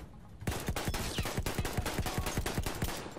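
Rapid bursts of gunfire in the video game Battlefield 1 crack out in a fast, steady rhythm after a brief quiet start, loud and close.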